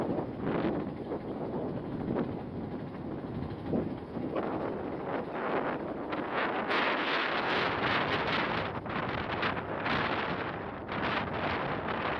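Strong wind roars at sea on a small wooden passenger sailing boat travelling between Gili Genting and Gili Raja islands, a loud continuous gusting rush that buffets the microphone throughout, with no talk.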